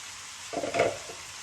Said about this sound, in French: on est toujours sur l'étape des calamars que je laisse un peu dorer avec mes crevettes